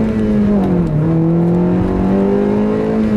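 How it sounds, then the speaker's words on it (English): Steady engine drone from a 2014 FG4 Honda Civic Si Coupe while driving, its pitch sliding slightly down and then climbing slowly as the car accelerates, close and continuous with no talk over it. "I'm driving his 2014 FG4 Honda Civic Si Coupe"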